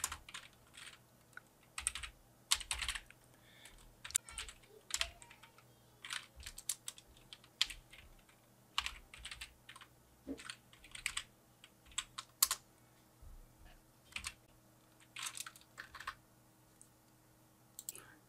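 Rapid clicking keystrokes on a computer keyboard while JavaScript code is written, irregular bursts and pauses of close, crisp taps over a faint steady hum, with nobody speaking.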